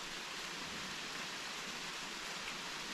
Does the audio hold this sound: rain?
yes